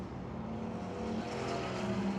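Drag racing cars on radial tires hold revs at the starting line with a loud, steady engine roar, heard from the stands without pause.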